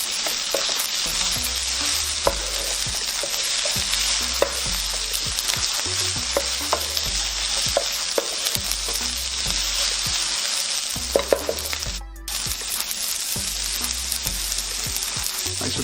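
Vegetables and cabbage are stir-fried for nasi goreng, a constant close sizzle broken by repeated scraping and knocking of a spatula against the wok in an uneven rhythm, with a short pause near the end.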